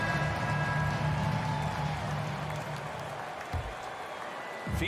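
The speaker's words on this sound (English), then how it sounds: "Please give a big round of applause for your son" Crowd applause and cheering from an arena audience in the NBA 2K23 basketball video game during a close fourth quarter, a steady dense roar that swells at the start and stays loud under a low hum.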